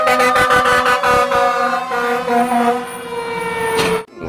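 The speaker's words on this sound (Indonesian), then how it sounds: "Di sini ada truk pemadam kebakaran" A toy fire truck siren blares loudly up close, honking in rapid bursts and then wailing before it cuts off abruptly.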